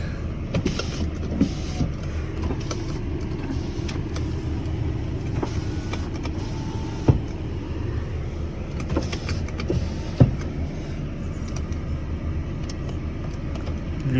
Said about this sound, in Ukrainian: ліве дзеркало працює, праве дзеркало теж працює